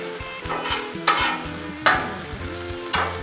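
Ham sizzling on a Blackstone flat-top griddle, a steady frying hiss broken by a few louder scraping stirs of a spatula, close and with no talk.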